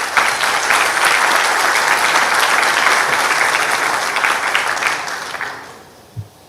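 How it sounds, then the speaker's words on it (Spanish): Applause for panelists at a seismic-risk forum fills a hall, steady and loud for several seconds before tapering off to near silence, with a single knock at the end. "Pedimos un aplauso también para ellos."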